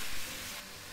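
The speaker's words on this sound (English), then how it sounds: "I like my pan like super hot, so that's why you can hear the sizzle all crazy" Chicken sizzling hard in a very hot wok for a ginger stir fry, a dense, steady hiss close up with no talk.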